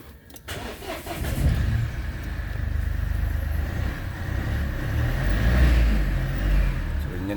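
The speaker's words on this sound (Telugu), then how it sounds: "సో వెహికల్ స్టార్ట్ చేద్దాం ఒకసారి" A used 2017 Mahindra Bolero ZLX Power Plus with manual transmission and 88,000 km cranks and catches after a brief starter whirr, then settles into a steady, close diesel-like idle rumble that continues to the end.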